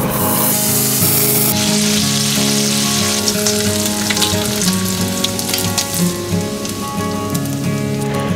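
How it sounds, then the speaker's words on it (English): Bacon fries in a pan with a loud, dense, continuous crackling sizzle, close up and steady, with bright spitting pops throughout and no voices. "Now we're gonna fry some bacon."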